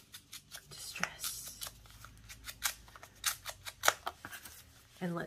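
Scissors snip repeatedly at paper scraps to distress their edges for a handmade collaged journal envelope, with close, crisp, irregular cuts in quick bursts and a faint low voice in the background.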